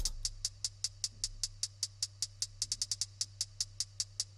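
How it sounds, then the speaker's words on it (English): Closed hi-hats in a trap beat tick out crisp, evenly spaced hits. Quicker rolled bursts come near the middle and end over a steady low hum. "Now, as far as the drums go, we started out with some closed hats, and they sound like this."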